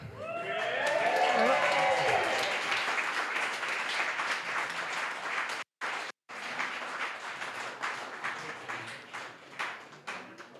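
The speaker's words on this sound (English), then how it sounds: "give a massive round of applause to my amazing wife" Wedding guests at a reception applaud the bride during the speeches, a loud sustained burst of clapping with a voice rising over the start, briefly cut out midway, then continuing and thinning toward the end.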